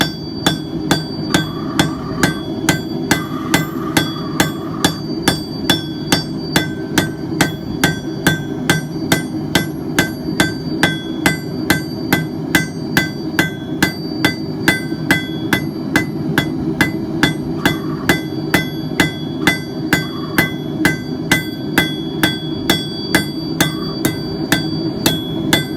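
A hammer forges hot steel on an anvil, tapering, rounding and straightening a bar for a paper towel holder; the sharp, ringing blows fall close and in a steady, even rhythm for the whole stretch, with no talking.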